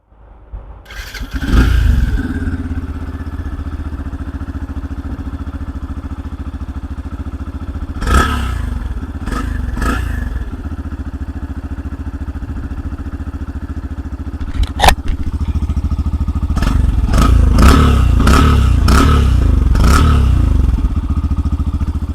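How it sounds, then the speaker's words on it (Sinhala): Yamaha FZ-S V4 motorcycle, 2025 model, started up and idling with a steady exhaust note, then blipped in several sharp revs, mechanical clatter and thumps mixed in, close and loud with no talk. "ඉතින් අපි දැන් බලමු මේ බයික් එකේ එක්සෝස් සවුන්ඩ් එක මොන වගේද කියලා."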